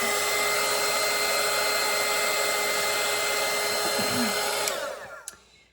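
A hair dryer blows over a watercolour painting, a loud, steady whooshing whine close by that runs without pause, then cuts off and winds down to quiet near the end.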